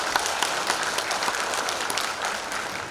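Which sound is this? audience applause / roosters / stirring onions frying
audience applause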